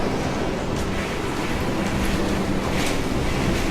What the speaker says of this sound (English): Now the wind's swinging to a southeasterly, so the eye must be going right over the top of us.